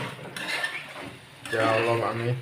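Black pepper chicken stirred in a pan, metal spoon scraping and clinking against the cookware in two bursts of steady stirring, close and moderately loud.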